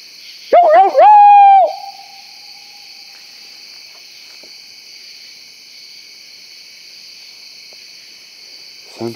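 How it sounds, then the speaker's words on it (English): A coyote yelping at night, heard as a brief cluster of high, sliding yelps near the start, then a long stretch of steady insect chirring in the dark with a faint sound at the very end. "you hear one get caught, and you hear it yelping like a dog"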